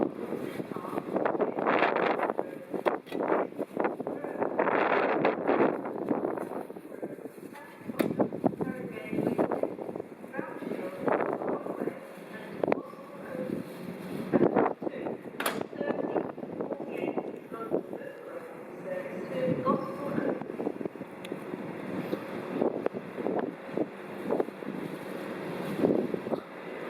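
Strong wind buffeting at Barking Riverside station in London, a constant rough, gusty roar over the microphone throughout, with a voice speaking over it and occasional clunks.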